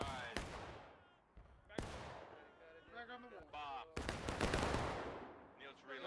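Musket volleys in the War of Rights video game, recorded at a historical rules event on Shenandoah Street, with three loud sharp cracks spaced over a few seconds and ragged shots and voices between them.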